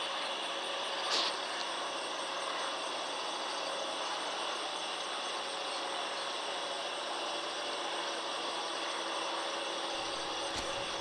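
A truck driving over to a wheat field in Texas at night, a steady low engine drone and road noise throughout, with a brief knock near the start and no talk.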